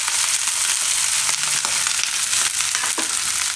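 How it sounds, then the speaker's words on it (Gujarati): Rice and onions for sweet mango rice frying in a pan with a loud, steady close-up sizzle and occasional light scraping stirs, no voices. "હવે એમાં ભાત નાખી દઉં આપણે. કાંદા નાખી દઉં."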